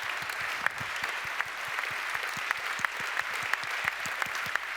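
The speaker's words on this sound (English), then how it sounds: "Another round of applause, please" Sustained applause from an audience at the opening of a facility, dense steady clapping that continues evenly throughout with no talk over it.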